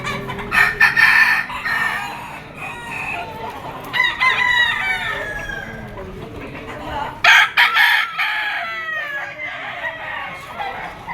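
Roosters, stags and hens at an open-air poultry market in Padre Garcia, Batangas, with several loud crowing calls and clucking close by over a busy background murmur.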